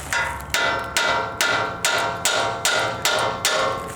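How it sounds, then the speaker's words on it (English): A hammer strikes a truck's upper control arm eight times in a steady rhythm, each blow sharp and ringing with a short decay, close and loud. "Now we're gonna grab a hammer and pound on the metal flat surface right here."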